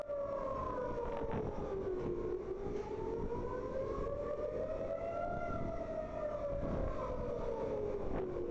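A loud wailing air raid siren in Israel rises and falls slowly and steadily, droning on without pause and no voices.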